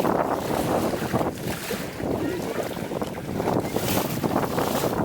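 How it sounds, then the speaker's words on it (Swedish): Strong wind roars across the microphone aboard a sailboat moving fast at sea, a dense, steady rushing with gusty swells and water noise mixed in, no talking. "så kommer vinden här"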